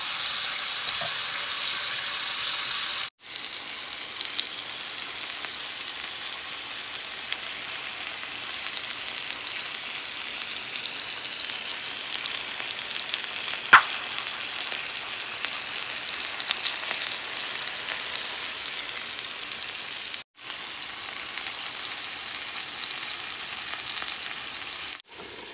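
Chicken thighs sizzle in a pan, a steady, fairly loud frying hiss that continues without letup, with a couple of brief cutoffs and no talk.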